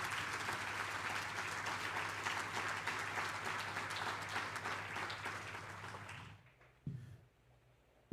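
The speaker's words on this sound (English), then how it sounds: "Let us give all those artists and performers a big round of applause." An audience at a school awards ceremony gives a round of applause for the artists and performers, steady and full, then fading out at the end.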